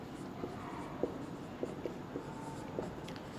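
A pen scratches an equation onto paper, a run of short, soft strokes with small pauses between them, close up and quiet over a faint steady hiss.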